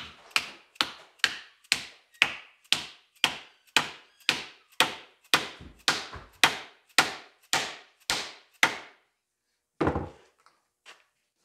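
Vintage Plumb single-bit axe head hammered down onto its handle, which rests on a hardwood block on the floor: about sixteen loud, evenly spaced wooden knocks, then a pause and a few lighter taps, with no talking.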